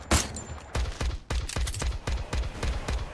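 Bursts of gunfire from the Free Fire video game in a solo versus squad match fire in rapid, repeated volleys, loud and close, with short gaps between bursts.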